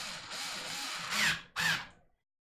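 A power drill whirs in three short close bursts, the last two rising to a brief squeal, as screws are driven tight on an Anet A8 Plus 3D printer, then it stops into silence.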